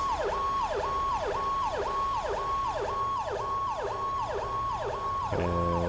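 In GTA 5, an ambulance siren wails loud and close in a steady repeating rise-and-fall cycle, about ten sweeps, before switching to a different tone at the end.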